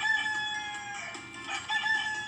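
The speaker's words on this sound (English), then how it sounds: "That's right, Bonnie, a rooster." A rooster crows near a chicken coop, a short clear cock-a-doodle-doo rising and falling, faint but distinct on its own.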